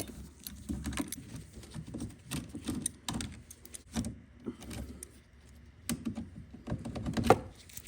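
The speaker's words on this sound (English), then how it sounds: "Now using a T25, remove the 2 screws holding the brake reservoir to the cowl" Screws being backed out with a T25 driver from the brake reservoir mount on a Ford Escape 1.5L, giving a run of close, irregular metallic clicks and ratchety taps with small clunks, no talking.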